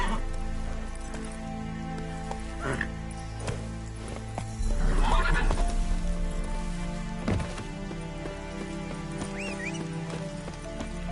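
A horse trots on a road in The Witcher, its hooves clip-clopping steadily over an ambient game soundscape, with a brief whinny near the middle and light rain-like noise throughout.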